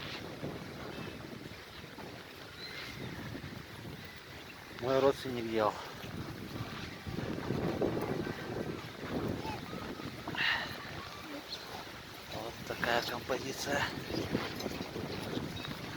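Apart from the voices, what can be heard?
wind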